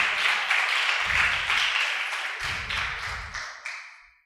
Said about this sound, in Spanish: Le damos otro fuerte aplauso al Señor, por favor.